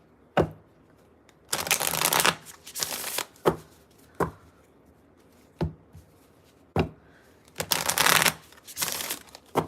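An oracle card deck, the Soul Symphony set, is shuffled in bursts: sharp riffling rushes alternating with single crisp taps and knocks of the cards, close and clear against near silence.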